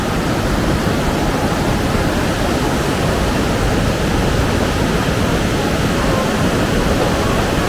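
A river rushes beneath a wooden suspension bridge on a Himalayan trek, a loud, steady broadband roar of flowing water that fills the whole stretch without a break.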